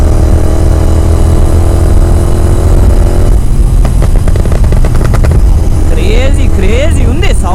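A tuned Royal Enfield GT 650 motorcycle's exhaust booms loudly and close, with a sustained low engine roar that breaks into sharp rev pulses partway through, while a voice talks over the end.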